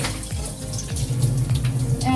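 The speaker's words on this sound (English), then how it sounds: "Just, you know, wash it with a little water and that will be fine." Tap water runs while a small pot is rinsed in a kitchen sink, a steady splashing stream with clattering and knocks of the pot against the basin, close and fairly loud.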